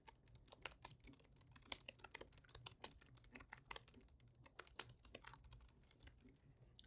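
Steady clicking of a Logitech MX Keys wireless keyboard being typed on, rapid irregular keystrokes continuing throughout, faint and picked up from a microphone placed above the keys, with no talk.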